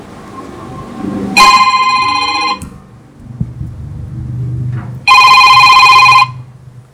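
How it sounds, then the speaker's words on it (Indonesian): Telephone ringback while a call to a friend connects: two long electronic ring bursts, loud and close, separated by a pause with faint background rumble. "Ya udah, gua telepon dulu deh Dimas ya"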